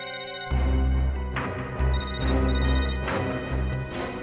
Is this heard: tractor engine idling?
no